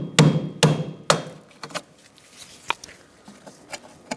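A hammer strikes metal during a rear wheel hub replacement on a 2002–2006 Honda CR-V: three sharp, loud taps in quick succession, then a scattering of lighter knocks and clinks.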